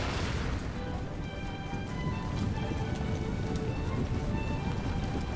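Cavalry horses charge across an Empire: Total War battlefield, a dense, continuous rumble of many hooves with scattered booms and pops, loud and steady throughout.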